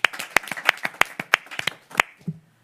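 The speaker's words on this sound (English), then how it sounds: "clap for that" Sparse clapping at a school event: a handful of distinct, sharp hand claps land at irregular intervals, close and clear, tapering off after about two seconds.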